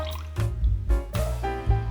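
Lemon juice drips and splashes in several quick pours into a salad dressing of red wine vinegar and minced garlic, with close, wet, liquid bursts.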